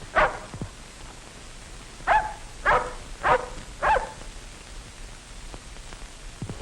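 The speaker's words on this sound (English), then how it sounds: ""The dog," said Hoppy." A dog barks five times at close range, once alone and then four in a quick, evenly spaced run, against a faint static hiss.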